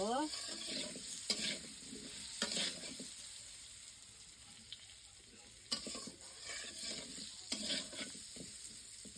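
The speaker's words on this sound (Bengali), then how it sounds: "লবণ বন্ধু ভালো করে বেঁধে নিব লাল নাল করে ভেজে নেব" Chicken and potatoes frying in a pan in a village kitchen, a quiet steady sizzle broken by recurring bursts of stirring and scraping against the pan.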